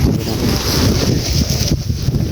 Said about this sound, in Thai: มันลมเลยเนาะ